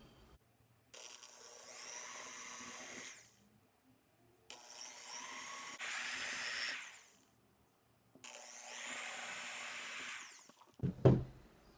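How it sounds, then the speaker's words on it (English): Power drill pre-drilling short holes through tape into the bottom of a wooden jewelry organizer frame, three separate steady whirring runs of a few seconds each, close by, followed by a brief clatter. "I'm just going to pre-drill very, very short holes into the bottom of this frame through the tape"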